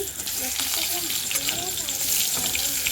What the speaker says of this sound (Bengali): বেগুনটা আগে ভেজে নিচ্ছি